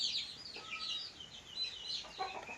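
Domestic free-range chickens clucking, several soft overlapping calls and short clucks at moderate distance, steady and continuous with no talk.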